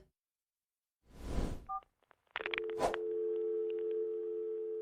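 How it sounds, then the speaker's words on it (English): Phone handling and dialing effects in an AI-generated animation: a rustling burst of fumbling with the handset, then a short tone, then a sustained telephone dial tone with beeps over it, close and clear. "I love that you hear the sounds of him tinkling with the phone."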